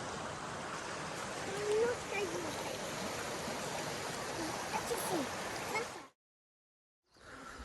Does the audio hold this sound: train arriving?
no